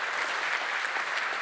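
Audience applause at a talk on procedural fantasy city creation with Geometry Nodes, a dense, even roar of many hands clapping, steady and close throughout.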